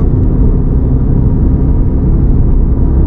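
A car accelerating gently on a road during a driving exam lesson, a steady low engine rumble heard from inside the cabin, continuous and fairly loud with no talking.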